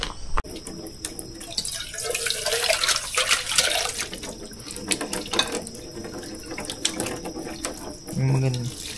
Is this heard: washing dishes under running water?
yes